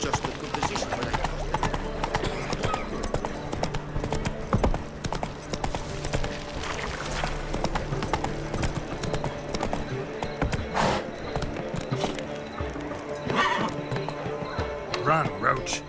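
Roach, the horse in The Witcher 3, gallops in fast rhythmic clip-clop hoofbeats with a whinny, while game music and voices play over it.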